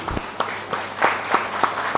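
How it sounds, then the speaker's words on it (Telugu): Congregation at a Telugu Easter church service claps for God, a loose scatter of separate hand claps in an irregular rhythm, moderately loud and reverberant across the hall. "ఒకసారి చప్పట్లు కొడదామా దేవుడికి, యేసు ప్రభువుకి?"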